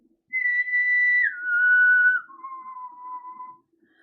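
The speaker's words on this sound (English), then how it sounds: "when I whistle" A person whistles three long held notes, each stepping lower in pitch, clear and close in a quiet room.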